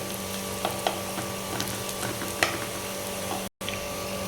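Onions frying and browning in a pan for a Telugu-style chicken curry, a soft continuous sizzle with occasional light clicks, with a brief dropout near the end.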